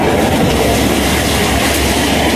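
A steady, loud mechanical rumble and clatter of an engine running a sugarcane mill, continuous and close with no pauses.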